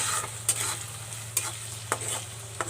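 Rice and salt being stirred in a pressure cooker with ginger and garlic for pulao, a few soft scraping strokes over a low frying sizzle and steady background hum.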